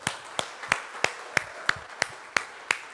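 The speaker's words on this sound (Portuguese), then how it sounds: "Vamos aplaudir ao Senhor," A church congregation gathered for a family worship service claps in slow unison, about nine sharp, evenly spaced beats over a soft room background with no talking.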